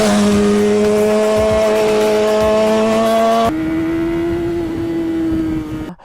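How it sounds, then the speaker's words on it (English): Honda CBR 1000RR and CBR 600RR sport bikes rev loudly and close by, one engine holding a high sustained whine before it shifts to a slightly different steady pitch and then cuts off abruptly. "Busting all kinds of power on that CBR 1000 double R. Having fun on that CBR 600 double R"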